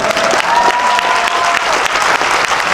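A comedy gala audience in Cannes applauds a comedian, sustained dense clapping that stays loud and even throughout, with a faint tonal hum beneath and no talking over it.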